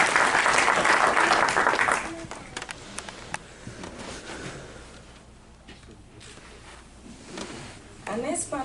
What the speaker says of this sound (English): Please give him a round of applause, Imam Shah.